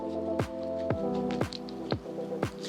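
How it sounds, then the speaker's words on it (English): Egg white cocktail, a White Lady with gin and Cointreau, dry shaken in a shaker without ice: rhythmic sloshing, squishing strokes about every half second, close and fairly loud, with no talking. "So let's dry shake."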